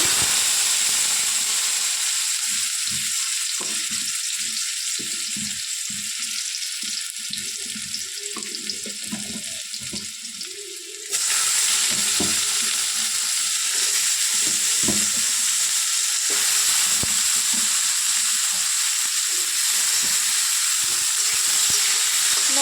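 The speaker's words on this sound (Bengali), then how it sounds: "কড়াতে আমি দিয়ে দেব আলু" Potatoes frying in a wok during cooking of a mustard paneer dish, a steady loud sizzle throughout with stirring clatter, without talk.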